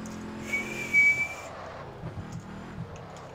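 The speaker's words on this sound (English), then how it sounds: "listen to that turbo whistle." A car's turbo whistles in a driving video game, a thin high-pitched whine rising briefly over a steady engine drone, moderately loud with no talk.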